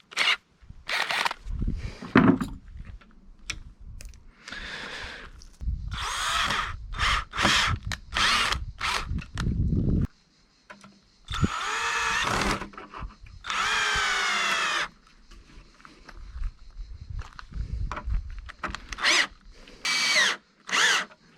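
A power drill with a screwdriver bit drives into material while a Peugeot 106 car is being fitted out, whirring in repeated short and longer bursts separated by pauses.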